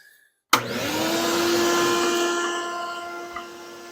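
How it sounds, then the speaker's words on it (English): Dust collection on a saw in a woodworking shop kicks on abruptly after a short silence, then holds a steady, loud whooshing whine with a faint tonal hum until the end. "I'll tell you about the dust collection on this air saw one of these days."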